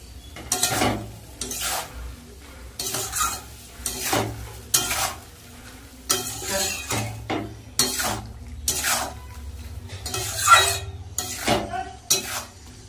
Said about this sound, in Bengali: এর সাথে সাথেই দিয়ে দেব নুন, হলুদ আর জিরের গুঁড়ো। আর ভালো করে মশলাটা কষিয়ে নেব।